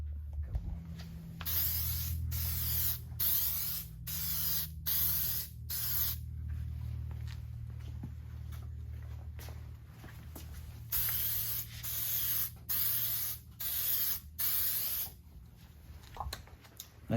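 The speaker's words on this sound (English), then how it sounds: "now we're going to spray it again" Aerosol clear coat sprayed onto a restored car headlight, a steady hissing spray in a series of bursts separated by short pauses, close and loud with a low hum underneath.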